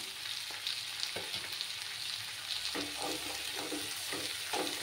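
Ginger paste frying in a pan for a Bengali katla fish curry with beans, potato and tomato, a steady soft sizzle with occasional stirring scrapes, fairly quiet and close, no voices.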